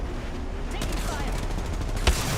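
A burst of gunfire in a space combat video game, several quick shots over a steady engine-like hum, with one sharper loud crack near the end.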